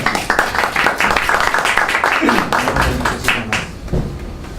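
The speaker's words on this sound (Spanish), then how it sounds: "Y sin más preámbulo, le solicito un aplauso" An audience claps at a lecture in a naval museum, brisk applause at close range that tapers toward the end, with a voice briefly audible over it.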